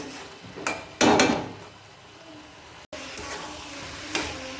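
A lid clanks down onto a pot of frying ash gourd, with a sharp metallic knock followed by a louder clattering contact and a fainter clink later, over a low sizzling background.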